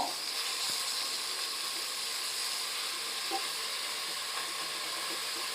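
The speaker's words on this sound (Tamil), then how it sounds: "இப்போ இதை நம்ம நல்லா வதக்கி விட்டுருவோம்" Onions sauté with salt in a pan for chicken biriyani, giving a steady, close, even sizzling hiss that runs unbroken from start to finish.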